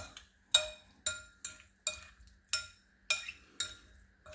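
Cucumber and avocado salad tossed in a bowl with a utensil, giving about nine evenly spaced clinks and scrapes against the bowl, close and clear with no voices.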